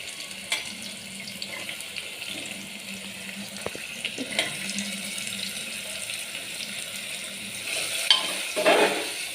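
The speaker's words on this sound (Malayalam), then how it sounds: "അമ്മയാണ് ഇപ്പം ഇളക്കിക്കൊണ്ടിരിക്കുന്നത്. അത് കഴിഞ്ഞിട്ട് ഓണിയൻ ഇട്ടു." Onions being stirred in a cooking pan by a mother, giving soft continuous scraping and light sizzling with faint watery clinks, steady and close, ending with a few sharper clatters.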